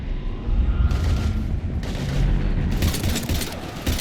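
Sustained gunfire against Husks in Mass Effect 3 Legendary Edition, a dense, loud run of shots and booms filling the whole stretch, with no voices over it.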